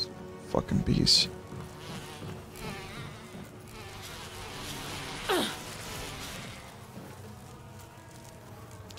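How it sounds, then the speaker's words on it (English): Bees buzzing in the video game Resident Evil HD, a thin insect drone running throughout with a few louder swells near the start and midway, someone talking over it. "Fucking bees."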